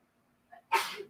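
A single sharp sneeze from someone who is upstairs in the same house, bursts out loud after a brief faint intake of breath, with a short tail of noise trailing off.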